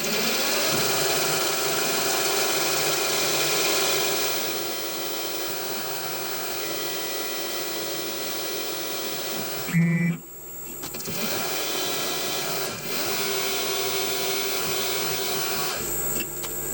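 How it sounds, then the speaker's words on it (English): A CNC machine drills a pattern of holes and taps them M5 in a metal blank for a Titan .60 glow plug model engine, a steady mechanical whir running throughout with a brief louder clatter near the middle. "we'll drill exactly the same pattern of holes, and we'll tap them M5,"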